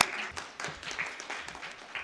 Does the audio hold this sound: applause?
yes